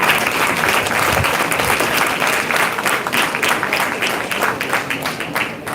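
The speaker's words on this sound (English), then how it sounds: "Let us give them a huge round of applause for the passion to impart education regularly." A school audience at a senior annual day gives the faculty a loud, continuous round of applause, the clapping full and even throughout before easing slightly at the end.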